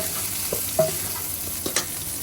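Potatoes and pointed gourd frying in oil until reddish, a soft steady sizzle with a few light clinks and scrapes of stirring, fairly quiet and close, no voices.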